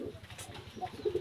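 Pigeons coo softly at close range in a loft of pet pigeons in Daulatpur, Khulna, with low repeated throaty pulses and a couple of brighter notes near the end.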